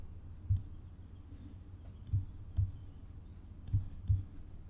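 A computer mouse and keyboard are used while drawing in a program. Several sharp, faint clicks and key presses come at irregular intervals against a quiet room hum, with no talking.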